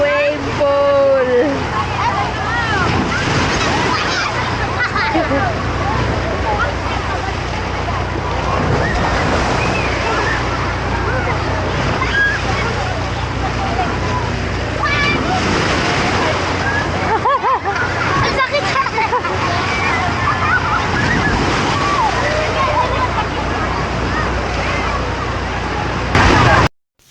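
Strong artificial waves churn and crash in a resort wave pool, a loud continuous roar of surf and sloshing water with heavy microphone wind buffeting, while people shout and cheer throughout.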